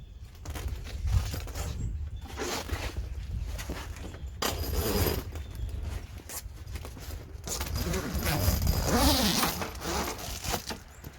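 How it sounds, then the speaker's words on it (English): A zipper runs along the fabric door of a cab enclosure on a 2017 Wolverine side-by-side, close by in several scratchy pulls with handling rustle between them. "Get this zip back up here."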